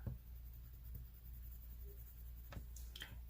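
A white colored pencil is drawn across paper with a few faint, close scratchy strokes and light taps against a quiet room hush.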